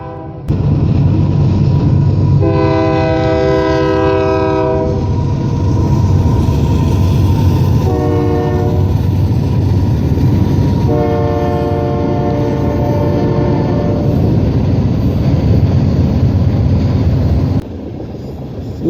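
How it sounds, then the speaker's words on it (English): A California-bound manifest freight train out of Portland, Oregon, carrying empty autorack cars, rumbles past loud and close on an overcast afternoon while its horn sounds in two long blasts, steady rail roar underneath. "this is a California-bound freight train originating from Portland, Oregon"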